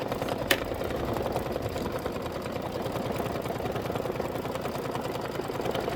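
An embroidery machine stitches an outline design on denim, a fast, steady mechanical chatter running continuously at moderate loudness with one brief sharp tick near the start.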